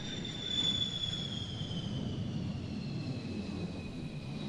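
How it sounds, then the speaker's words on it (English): A Royal Netherlands Air Force F-16 fighter jet at an air display, heard as a distant, steady broadband roar with a thin high whine gradually falling in pitch as it moves away. "a fabulous display by the Royal Netherlands Air Force. Wonderful F-16"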